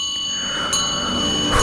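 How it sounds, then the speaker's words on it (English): A ringing bell effect on a radio show, sustained steady metallic tones with a brief louder strike midway and another hit at the end, played alone in a studio. "So let's ring the regression bell."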